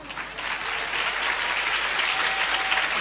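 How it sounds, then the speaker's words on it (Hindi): Church congregation clapping in praise of Jesus, a continuous, fairly loud wash of many hands clapping together without a break. "खुल के बजाओ ताली यीशु की महिमा के लिए"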